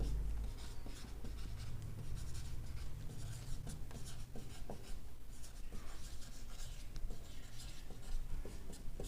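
Close, steady scratching of a pen or marker writing out a permutation sum on a board or paper in a math lesson, with continuous rubbing strokes and no speech.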